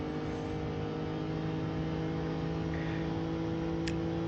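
A race car in Gran Turismo at Le Mans holds a loud, steady engine drone at full throttle, a continuous harmonic roar that stays nearly constant, with no talking.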